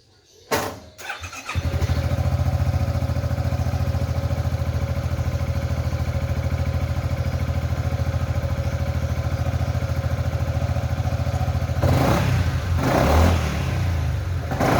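A Yamaha XMAX 250 scooter on its original stock exhaust starts after a brief crank and settles into a steady, loud idle, then gets two quick revs near the end before returning to idle.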